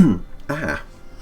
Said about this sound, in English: I still have that cough from COVID.